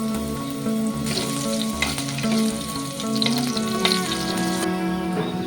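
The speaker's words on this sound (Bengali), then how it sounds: "তো এখন আমি আলুগুলো আর" Potatoes and cauliflower fry in mustard oil in a wok, a constant close sizzle with occasional scraping and stirring, alongside a faint musical background tone.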